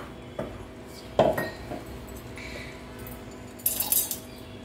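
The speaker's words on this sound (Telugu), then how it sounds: "ఫస్ట్గా మిక్సీ జార్ తీసుకుందాము." A steel mixer grinder jar is picked up in a home kitchen, producing a few sharp metallic clinks and clanks against a quiet background.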